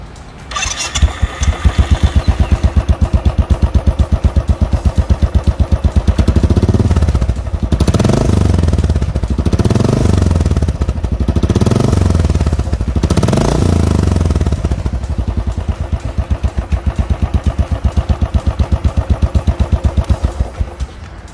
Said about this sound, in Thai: เดี๋ยวลองฟังเสียงเครื่องยนต์กันดูสักนิดนะครับ